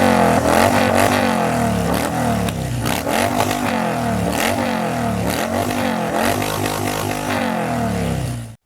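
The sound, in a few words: motorcycle engine revving intro sound effect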